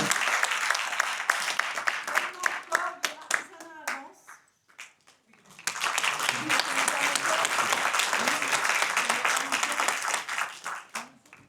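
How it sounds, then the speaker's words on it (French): Audience applause for a town mayor at a civic event in Vence, France, a burst of dense clapping that thins and pauses briefly, then swells again into sustained applause; a voice and a few other voices come through. "Oui, on peut l'applaudir, merci"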